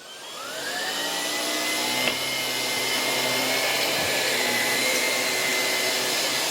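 A Miele Duoflex HX1 cordless stick vacuum runs on flat carpet, its motor spinning up into a loud, steady whirring roar that holds for several seconds, no talking.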